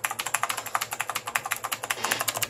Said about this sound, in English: I love the fact that it's like a typewriter.